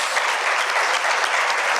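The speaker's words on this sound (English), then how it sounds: "let's give a round of applause to the panel, but also to yourselves" An audience applauds a transportation panel at a public meeting in Guelph, with steady dense clapping that holds at an even level throughout, and no voices rise above it.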